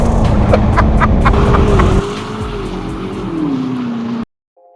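A BMW M8 Competition, a 625 hp car, does a tyre-shredding burnout: a loud, steady engine roar under a continuous tyre squeal, then an abrupt cutoff into silence.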